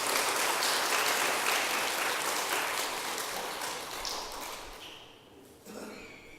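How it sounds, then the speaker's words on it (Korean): Audience applause at a regular Buddhist temple service, a dense wash of many hands clapping that is loud at first, then gradually thins and fades over several seconds. "박수 쳐주세요."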